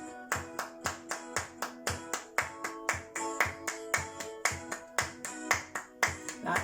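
Hand claps in a music lesson, a fast, even stream of sharp claps with one added between each beat of a steady pulse, close and clear with no talking.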